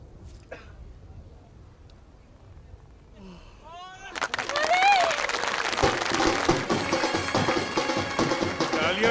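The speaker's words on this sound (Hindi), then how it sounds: "तालियां सुनी?" A crowd breaks into applause partway through, rising from a quiet background with a brief voice into a steady, fairly loud wash of clapping that continues to the end.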